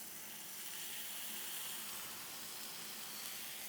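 Steaks searing on a Blackstone outdoor griddle give off a steady, bright sizzling hiss that holds evenly and loud throughout without pauses.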